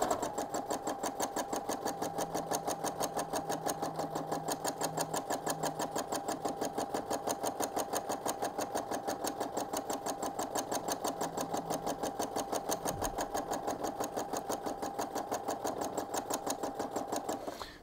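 A sewing machine runs steadily through free-motion fill stitching on a glow-in-the-dark sugar skull quilt project, giving a fast, even mechanical chatter that stays continuous and close for the whole stretch.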